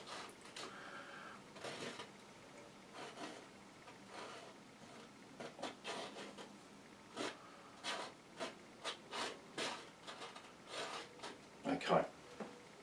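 Oil paint scraped across canvas in a series of short, dry rasping strokes, rhythmic and close, growing more frequent toward the end, with occasional quiet speech between them.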